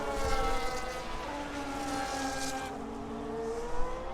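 F1 race cars in the video game F1 25 at the Netherlands circuit, McLarens in papaya colours among them, sweep past with a sustained high engine whine that shifts pitch, loud and continuous throughout.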